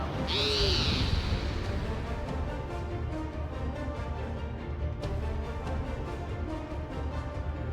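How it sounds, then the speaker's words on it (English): A summoned owl in Final Fantasy XIV gives a loud, clear hoot at the start over dense game music and battle noise, which carry on steadily afterward. "Oh no, it summons an owl."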